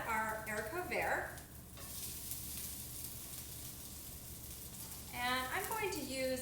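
Green beans (haricots verts) sautéing in a pan, a steady soft sizzle running under a cook's speech at the start and end, quieter and continuous in the middle.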